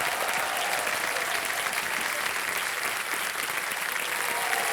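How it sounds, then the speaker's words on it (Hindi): A studio audience on the TV quiz show KBC High Flyers breaks into loud, continuous applause, a thick, unbroken roar of clapping that stays level throughout, with no voices heard over it. "तालियां बज जाए इनके लिए।"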